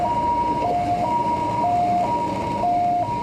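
An ambulance siren at a house in Yongjing, Changhua, sounds loud and near as a steady two-tone wail, alternating high and low notes about every half second with no talking.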